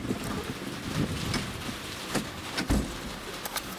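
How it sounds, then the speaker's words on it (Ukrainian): Heavy rain pours down outdoors in a steady, dense hiss, with irregular louder splashes and drips hitting surfaces nearby. "дощ вала повним ходом"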